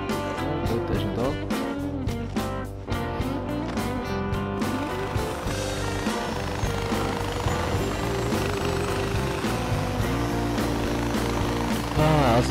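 A helicopter arrives in the video game Far Cry 4, its rapid rhythmic rotor chop pulsing steadily amid game sounds and music, while a player talks over it.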